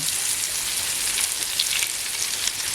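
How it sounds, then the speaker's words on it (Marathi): Onion frying in heated oil on a wood-fired stove, a steady dense hiss and crackle with faint stirring, close up and continuous, no voices. "तेल तर तापलंय कांदा घालून घेते"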